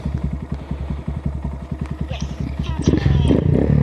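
A 2022 Honda Grom pulls off in first gear: a close, rapid thumping idle pulse gives way to a louder, rising engine rev as it moves off.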